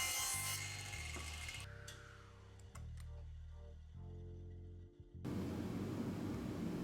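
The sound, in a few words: sawing a 2x4 piece of wood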